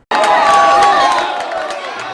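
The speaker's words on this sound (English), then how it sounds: "Fans filled the boathouse Monday night, cheering on Team USA" Soccer fans pack the Boathouse on a Monday night for a Team USA World Cup knockout match against Belgium, a loud, dense crowd roar of cheering and shouting that swells at once, holds strong, then eases slightly while staying sustained.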